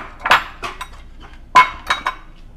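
A utensil stirs dry ingredients (flour, salt and sugar) for ube kutsinta in a bowl, giving a few sharp, close clinks and taps against the bowl in an uneven rhythm, with quiet gaps between strikes.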